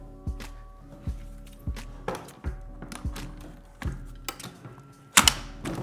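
The rear wheels of a Bumbleride Era stroller slide onto the frame and click into place, a series of close plastic-and-metal clunks and ratcheting taps at uneven intervals, ending in a sharper snap.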